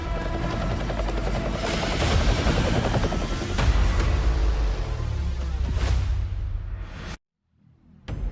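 Helicopter arriving for extraction in Call of Duty Mobile, a loud steady rotor roar with heavy low thumping, scattered gunfire and bursts mixed in, ending in a sudden cut to silence.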